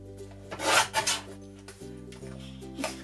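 Scissors trimming the edges of a printed paper decoration for a weekly planner give a few close, soft rasping snips, followed by quieter rubbing and faint handling noise, with no talking.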